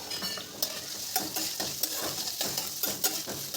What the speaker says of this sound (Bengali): আলু আর কুমড়োটাকে একটু ভেজে নেব।